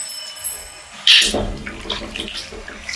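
Mutton pieces being rinsed under running water for a curry, a steady splashing rush that starts abruptly about a second in and carries on close by, with no talk.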